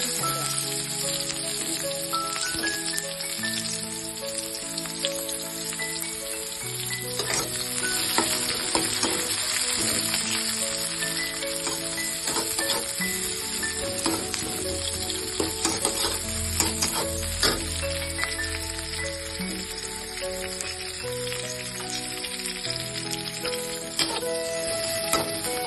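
Chopped onions and green chillies fry steadily in a pan, a dense continuous sizzle with occasional stirring clinks, close and fairly loud throughout.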